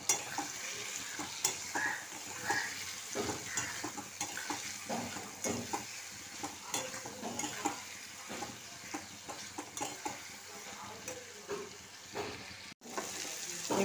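Ground spices (garam masala, Kashmiri red chilli, chilli powder, turmeric) with salt sizzling and frying in a pan for egg curry, a steady close crackle with scraping stirring strokes throughout.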